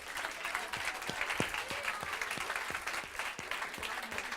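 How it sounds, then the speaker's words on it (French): Comedy club audience applauding steadily, a dense wash of clapping with some louder individual claps standing out, sustained at moderate level throughout with no voices. "On peut remercier Benny et applaudir Nilsson José,"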